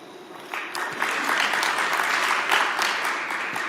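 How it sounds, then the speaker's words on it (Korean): Reporters at a Hyundai All New Tucson launch event applaud a speaker taking the stage, a full, sustained round of clapping from a seated crowd that swells after a brief start and stays steady. "큰 박수로 맞아주시기 바랍니다."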